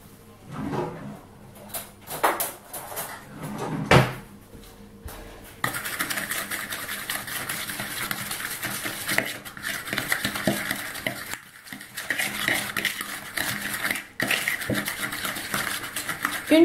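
A spoon scrapes and clinks around a bowl while vanilla sugar is stirred into a tiramisu mixture, with irregular close knocks and scratches, short pauses and quieter rubbing passages, and no talk.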